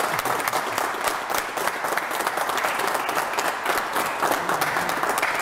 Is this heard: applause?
yes